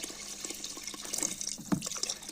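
Hot water pours into a pan of frying Kashmiri-style ojri (tripe), a soft continuous splashing and hiss with light sizzle, quiet and close, no talking.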